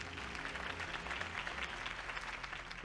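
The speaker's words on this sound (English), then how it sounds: "If only Mr. Wayne, my campaign's largest backer, could have heard that applause" Crowd applause from an in-game campaign rally in the Batman Telltale video game, a steady wash of clapping and cheering that holds at an even level for about three seconds with no pauses.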